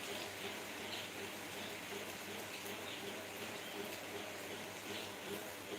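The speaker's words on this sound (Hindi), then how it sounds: "मैं दिखाऊं आपको बारिश हो रही है कि नहीं" Steady rain falling outdoors, a continuous close hiss of drops on surfaces with no breaks, moderate in level and alone without talk.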